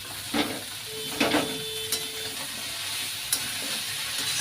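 Greens tipped into a hot pan sizzle steadily while a spatula stirs and scrapes in a few distinct bursts, with a faint steady tone running underneath.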